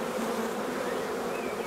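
Honeybees hum around an open beehive during a farm hive inspection, a dense, steady buzzing swarm heard close up and alone.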